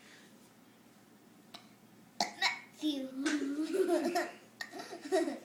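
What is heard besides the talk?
burping while saying a name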